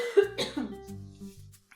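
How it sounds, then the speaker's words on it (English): A single short cough up close, followed by a low throaty rasp that trails off, like someone clearing their throat. "Oh God, I got a cough."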